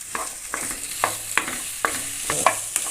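Onions sautéed in a pan for chana masala, with a spatula scraping in about six regular strokes over a soft sizzle, close and clear with no talk.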